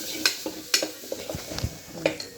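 Food being stirred in a pan makes a string of short scrapes and metallic clinks over a faint sizzle, close and fairly quiet, with no talking.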